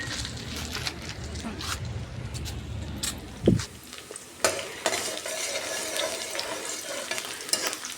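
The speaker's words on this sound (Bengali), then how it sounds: "ভেন্ডি আলু দিয়ে ভাজি করি" Okra and potatoes fry and get stirred in a pan, a steady sizzle broken by scraping stirs and a sharp clack partway through, close and fairly loud.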